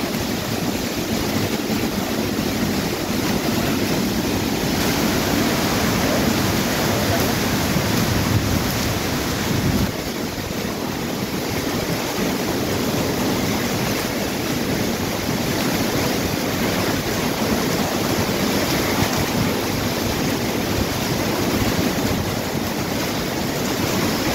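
Strong typhoon Opong wind roars in a dense, unbroken rush of noise with gusty rain, loud and close to the microphone, steady throughout with no voices.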